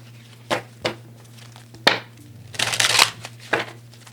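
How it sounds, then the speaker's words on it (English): Tarot cards being shuffled and handled in several short riffling bursts, with a longer flurry near the middle, close up and moderately loud. "I gotta shuffle one more time"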